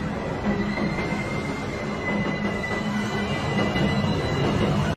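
A subway train in an underground station, a loud continuous rumble of wheels on rails with a high metallic squeal running through it, steady throughout before cutting off abruptly at the end.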